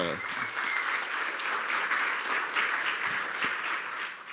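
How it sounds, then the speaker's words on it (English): Audience applause at a conference welcome session, a full, sustained round of clapping from many people that swells and tapers off near the end. "So I think that really deserves a big round of applause"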